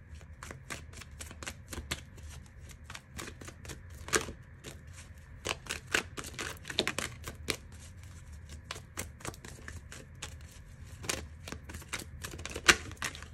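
Tarot cards being shuffled and drawn, with quick irregular riffling snaps and clicks in bursts, close but soft, over a quiet room background.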